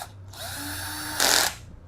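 A power drill drives a screw into the negative terminal of a DIY 12V 22Ah LiFePO4 lithium battery pack, whirring steadily for about a second, then ending in a louder, harsher burst as the screw tightens down, heard up close.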